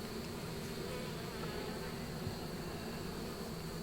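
Bees swarm at an opened horizontal hive, giving a dense, continuous buzzing drone that stays steady and fairly close throughout.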